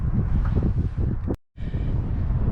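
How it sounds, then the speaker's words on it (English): Strong wind gusts buffet the microphone beside a lake in Waco, a loud rumbling roar that cuts out for an instant and then returns just as hard. "It is windy"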